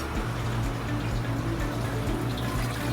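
A 300 kg ice machine chilling water runs with a steady low hum, with a faint watery trickle and splashing mixed in, continuous and fairly close.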